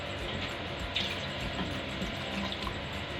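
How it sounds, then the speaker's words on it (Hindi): Water pours steadily into a cooking pot of potato and meat curry on the stove, a continuous rushing splash that fills the whole moment with no voices. "पानी मैंने डाल दिया।"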